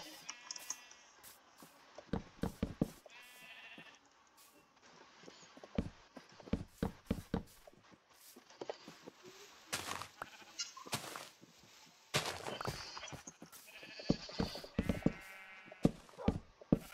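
Repeated sheep bleats from a blocky Minecraft-style video game, several short calls spread through the stretch with clicks and game noises between them and no talking.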